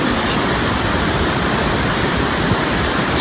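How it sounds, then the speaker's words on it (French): Roaring, steady rush of the Iguaçu falls, one of the world's highest waterfalls, a dense broadband wall of falling water continuing unbroken and loud throughout. "Iguaçu, c'est parmi les plus hautes chutes d'eau du monde. Je vous laisse apprécier."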